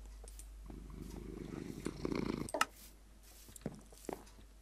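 A purring cat in the Minecraft video game, a soft steady rumble throughout, with a few brief clicks and game sounds over it.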